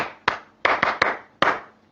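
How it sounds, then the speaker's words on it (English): Five sharp hand claps ring out close by in an uneven rhythm, with no voices. "I clap for you."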